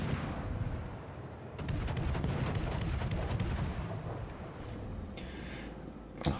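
Naval gun salvos boom across a World of Warships sea battle, dense continuous rumbling blasts layered over a low roar, with a few sharper cracks toward the end; no talking.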